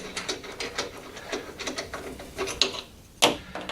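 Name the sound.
removing orange plastic wing nuts on a lawn mower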